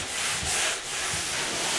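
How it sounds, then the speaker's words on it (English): Sandpaper rubs by hand in short back-and-forth strokes over a painted stairwell wall, a soft, close scratchy hiss with no voices. "We're sanding so that we get rid of all the dirt that was in the wall, all the imperfections."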